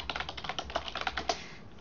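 Quick bursts of typing on a computer keyboard, close and crisp, with a dozen or so keystrokes in an irregular run that trails off into quiet.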